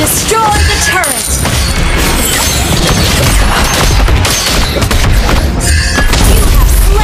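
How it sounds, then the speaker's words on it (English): Loud explosive booms and crashing thuds of a turret being destroyed in the mobile game Mobile Legends, packed densely over game music and effects with no pause throughout. "Your team destroyed the turret."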